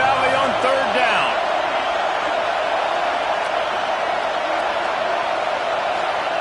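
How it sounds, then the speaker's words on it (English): A large stadium crowd in Happy Valley roars on third down in College Football 26, a loud, even, unbroken wall of crowd noise that holds steady throughout, with a brief thump and a voice near the start. "Here comes the noise from this big crowd in Happy Valley on 3rd down."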